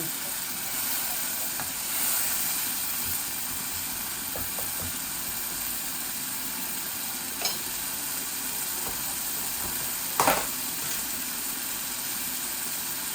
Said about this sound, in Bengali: একদম হালকা পাতলা ভাবে আমি এটা বুনা করব।